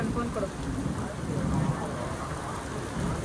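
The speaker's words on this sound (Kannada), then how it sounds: "ಸರಿಯಾಗಿ ಮಳೆ ಹೊಡಿತಾ ಇದೆ ಪಾಂಡಿಚೇರಿಯಲ್ಲಿ" Steady heavy rain pours down in a dense, continuous hiss in Pondicherry, with faint voices murmuring underneath.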